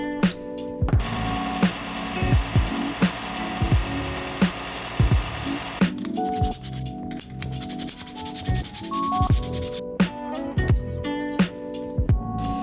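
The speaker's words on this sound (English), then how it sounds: "It's a little bit tight, so I'm gonna go ahead and sand it just a little bit." Rough, rhythmic rubbing of sanding a pen ink tube by hand, close up, in repeated back-and-forth strokes with short pauses and some faint clicks and knocks.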